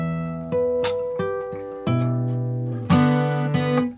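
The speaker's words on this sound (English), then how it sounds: "the whole harmonic riff sounds like this." Fingerstyle guitar playing the harmonic riff from a song: a close, clear run of bell-like plucked harmonics that ring and overlap in a steady pattern, with no voices.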